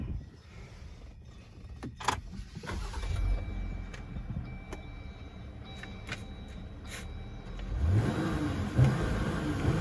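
A Jeep Gladiator pickup's engine revs against its 3000 RPM soft limiter, a steady mid-pitched drone with a swell near the end, heard up close with a few clicks and no talking.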